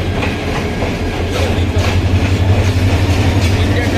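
Kalni Express passenger train moving after leaving Brahmanbaria, with a steady low rumble and rhythmic clickety-clack of wheels on rails throughout, loud and close, with faint voices in the background.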